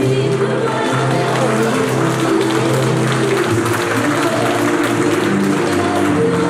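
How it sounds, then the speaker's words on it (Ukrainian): Audience of parents, relatives and alumni applauding a dance ensemble at a festive concert: dense, steady clapping runs unbroken for the whole stretch, loud and close, with a held musical tone faintly underneath. "Глядачі серед них і батьки, і родичі учасників, випускники ансамблю та усі поціновувачі талантів танцівників не шкодували оплесків."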